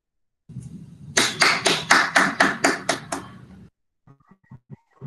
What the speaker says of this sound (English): Let us encourage and welcome senior KG students with a round of applause